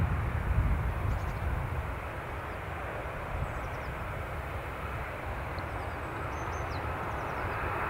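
An Air Canada Boeing 737 taking off produces a steady, fairly distant jet rumble, low and broad, continuing without a break, with faint bird chirps above it.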